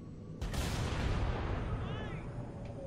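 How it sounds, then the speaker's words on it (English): A single heavy tank cannon blast in a Halo video game booms and rumbles away, followed by a long decaying echo and faint background chatter. "My cannon reloads fast."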